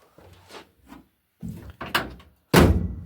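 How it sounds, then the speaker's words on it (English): An Austin car door is worked back and forth with soft scrapes and knocks, ending in one solid, heavy thud as it shuts close by. "I'll close the door."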